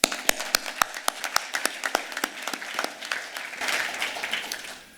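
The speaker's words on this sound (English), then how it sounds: "Let's give them another round of applause" An audience at an alumni hall of distinction ceremony claps for the honorees, starting with a few distinct sharp claps that quickly swell into dense, steady applause before tapering off.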